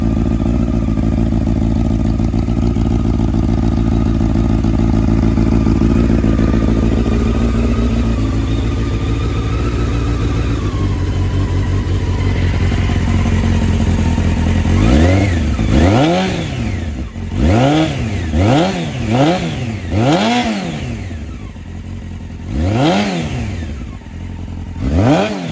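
A 1997 Honda CBR600 F3 sport bike idles with a steady, close engine drone. Partway through, the rider blips the throttle repeatedly, and each rev climbs sharply and falls back in a rhythmic series.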